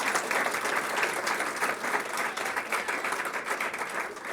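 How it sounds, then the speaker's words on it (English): An audience at a school board recognition gathering applauds student qualifiers from a high school, a steady, dense round of clapping heard from a middle distance, fairly soft overall and continuous throughout. "So round of applause for our qualifiers from Fort Collins High School."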